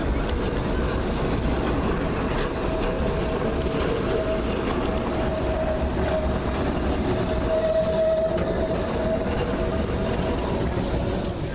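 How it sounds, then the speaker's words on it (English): Continuous rumble of a Nottingham tram in motion, heard from inside, with a steady hum and faint rattling over the whole stretch. "We'll do one more tram ride to get back to the station."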